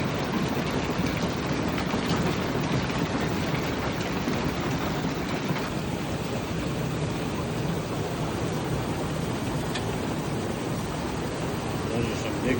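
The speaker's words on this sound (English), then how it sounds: "Those are some big raindrops too, man. Really on the roof." Heavy rain drums steadily on a house roof, a dense, constant roar of big drops that never lets up.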